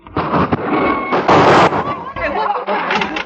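A radio-drama gunshot effect fired during a chase toward an elevator: sharp bursts amid dense, noisy action with overlapping voices and movement, loud and close.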